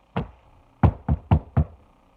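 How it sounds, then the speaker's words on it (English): Five hard knocks on a door: one isolated rap, a pause, then a quick run of four raps, loud and close in an otherwise quiet room. "the door started to knock"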